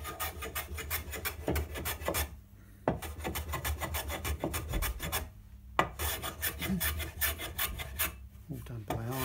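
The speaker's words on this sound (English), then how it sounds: "Just use a little block plane to knock most of it off." A small block plane shaves along the edge of a Probett Rocket instrument body: steady, close rasping strokes repeat in quick succession with a few brief pauses between runs.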